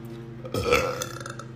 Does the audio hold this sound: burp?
yes